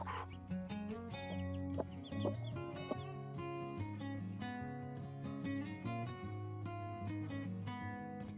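A broody hen and a couple of newly hatched chicks clucking and cheeping while being fed small pieces of greens on a homestead, busy overlapping calls close by with no talking.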